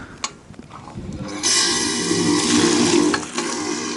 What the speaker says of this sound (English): It's all fresh spring water that comes from the mountain, where that outlet was before, where I was. It all flows down here